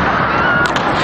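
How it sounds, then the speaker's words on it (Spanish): Crowd noise fills a football stadium during a Monarcas Morelia vs Santos Laguna match, with a couple of brief sharp bangs like gunshots in the stands partly masked by the dense roar. "Han sonado ciertas descargas en la tribuna"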